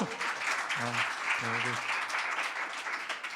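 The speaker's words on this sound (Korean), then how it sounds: "네, 박수." A high school church congregation applauds at a Sunday service, a dense wash of clapping that fills the room, while a voice briefly speaks under it.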